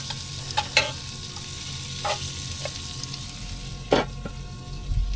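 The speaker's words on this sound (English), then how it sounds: "Okay, so now I'm gonna stir it." Spicy food fries in a pan on the road, with a low steady sizzle beneath a few sharp scraping stir strokes, close and alone without talk.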